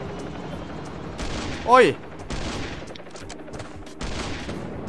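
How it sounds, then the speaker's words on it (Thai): A shotgun fires in the survival video game Last Island of Survival, a few loud blasts spaced over several seconds, with a person's pained exclamation in the middle. "ยิงกับลูกซองเลยว่ะ"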